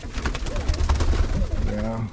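Roller pigeons coo softly in a winter loft, several low throaty calls in quick succession close by, with a voice briefly audible and some rustling underneath.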